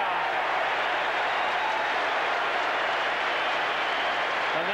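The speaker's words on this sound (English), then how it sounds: "And there's the crowd once again" A big stadium crowd at a 1987 Australian football match roars in a broad, sustained wash of cheering and applause, steady and loud throughout, heard from within the stands with no break.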